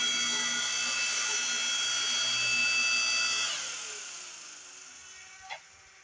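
A small, roughly twelve-year-old hydraulic log splitter pushing through big firewood, a steady motor and pump whine that drops off and winds down after about three and a half seconds, with a short sharp knock near the end.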